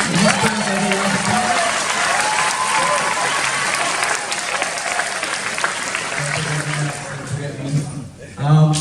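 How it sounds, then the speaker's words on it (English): Audience at a Year 12 graduation ceremony applauding a student named Max, a loud, dense wash of clapping with some crowd noise that fades near the end before a brief swell. "can we just give Max a round of applause?"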